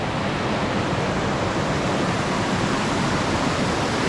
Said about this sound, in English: The gushing water below